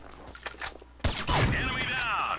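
Gunfire in the online shooter Combat Arms, a loud close burst of shots that hits suddenly midway and keeps going, following quieter game noise and a speaking voice.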